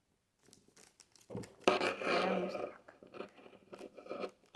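Scissors snip and crinkle through a plastic toy packet from a Smashers Mini Light-Up egg, with close crunching and crackling bursts and a sharper tear near the end, under quiet intermittent talk.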